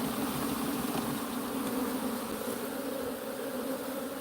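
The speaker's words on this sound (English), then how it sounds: "Let's shake these bees into the box" Honey bees being shaken into a hive box while equalizing a weaker colony with a stronger one produce a dense, continuous buzzing drone, close and steady throughout with no talking.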